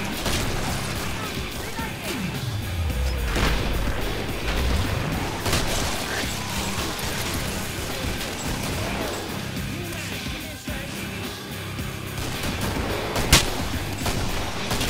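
Hand cannon fire and chaotic combat in the video game Killing Floor crash through a dense, noisy mix of booms and mechanical clatter, with one sharp loud blast near the end and players talking throughout.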